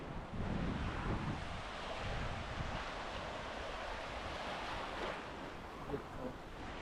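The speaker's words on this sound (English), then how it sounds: "The waves are amazing." Shallow surf washes continuously onto a long sandy beach at Playa de Muro, Mallorca, a broad steady rush of breaking water blended with gusty wind buffeting the microphone.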